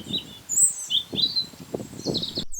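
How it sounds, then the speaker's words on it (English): A European robin sings along the Camino trail. Its high, thin warbling phrases and chirps are soft and moderately distant over low background rustling and murmur. "when they are still, these European robins sing a beautiful song"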